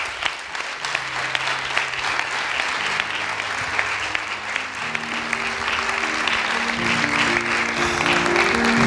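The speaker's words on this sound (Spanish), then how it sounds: "Un aplauso para José Antonio Rodríguez Canales" Audience applause for a local VOX political candidate at a party candidacy presentation in Villacarrillo, loud sustained clapping from a crowd that continues steadily throughout, with faint tones underneath.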